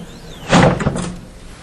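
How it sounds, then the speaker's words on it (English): The lid of a Minipack MVS 45 chamber vacuum food sealer swings open after sealing, a close, fairly loud whoosh with a dull thud that fades over about a second. "as soon as it's done, the top will open back up."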